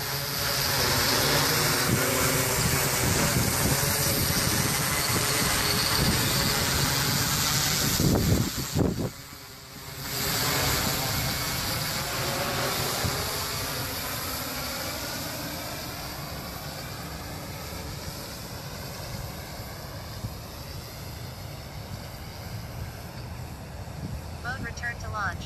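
An ArduCopter hexacopter flying out in altitude hold, a loud continuous buzzing whine of rotors, briefly dipping midway and then fading slightly as it moves away.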